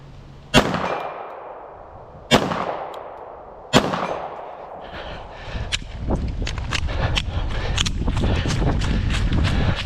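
Gunshots from a pistol fitted with a Recover 20/20 brace, three loud, spaced reports ringing out with metallic decay, followed by a rapid string of sharper, closer-spaced shots over rising background noise.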